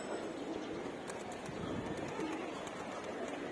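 Pigeons coo softly at a loft, faint and somewhat distant against a quiet outdoor background, with no talking.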